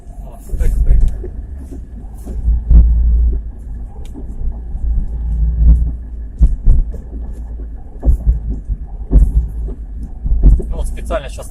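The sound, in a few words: transmission knocking in a 2017 Chevrolet Niva while driving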